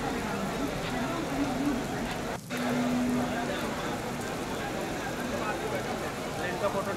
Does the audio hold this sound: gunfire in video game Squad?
no